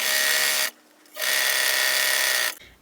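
An old sewing machine without a thread cutoff stitching denim with a denim needle, a loud steady mechanical whir in two long runs split by a brief pause, close up with no talking.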